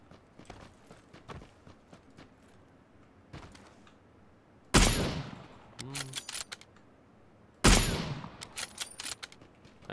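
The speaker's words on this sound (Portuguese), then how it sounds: "Eu vou dar uns tiros nele lá." Gunfire in the video game PUBG: Battlegrounds, two sharp, loud bursts of rapid shots a few seconds apart, separated by quieter in-game movement, footsteps and faint voice chat.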